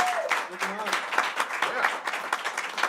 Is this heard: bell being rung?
no